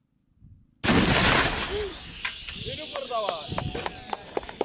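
Rifles fire during a joint military shooting drill with journalists, a sharp blast followed by rolling echoes and scattered later cracks, while voices call out commands.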